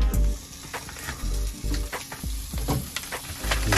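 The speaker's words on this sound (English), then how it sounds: "Here's the first sizzle." Meat sizzling on a plug-in hot plate, crackling and popping in irregular bursts over a steady frying hiss, close by and fairly quiet, with no talking.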